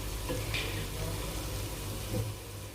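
Chopped onions fry in hot oil with a constant close sizzle, and brief stirring scrapes break in twice over the short stretch.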